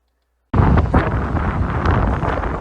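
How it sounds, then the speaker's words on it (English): Strong wind buffeting a microphone outdoors at a county highway building, a loud continuous rumble that starts abruptly after half a second of silence and stays steady throughout. "Man, it is windy today"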